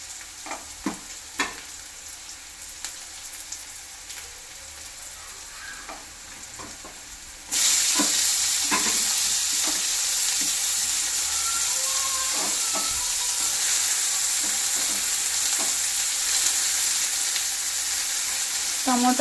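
Onions roast in a pan, first with quiet stirring clicks and scrapes over a soft sizzle. Partway through, a much louder, steady hiss of frying rises and carries on to the end. There is no talking.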